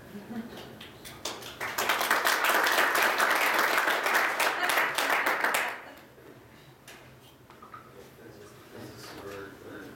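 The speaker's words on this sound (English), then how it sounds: "clapping when somebody comes up like that" An audience at a lecture breaks into loud, steady applause as a guest speaker is introduced and comes up to the microphone; the clapping lasts several seconds, then cuts off abruptly, leaving quiet room noise.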